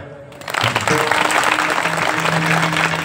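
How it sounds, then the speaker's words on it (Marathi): Audience at a Marathi kirtan on Rishi Panchami breaks into clapping: it starts after a brief quiet moment, then dense, sustained applause from a crowd fills the rest, with a faint held tone beneath. "टाळी वाजवा."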